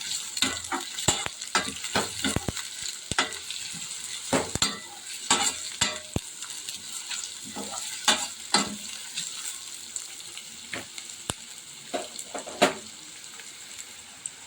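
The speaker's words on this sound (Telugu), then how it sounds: "ఈ ఎర్రగడ్డ ముక్కలు బాగా వేగేంత వరకు బాగా వేయించుకున్నాం" Chopped onion pieces fry in a pan with a steady sizzle, broken by frequent sharp scrapes and clatters of a spoon stirring them, loud and close with no voices.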